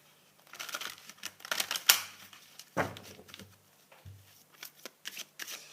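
A Drago Immaginale tarot deck being shuffled by hand, rapid riffling flutters and papery slaps in irregular bursts with a few soft thumps as the cards are squared, close and quiet, no voice.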